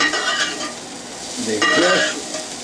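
Broccoli, carrot and mung bean sprouts hiss and crackle in a hot frying pan as they are stirred, the sizzle swelling loudly midway with soft clinks of utensil against pan.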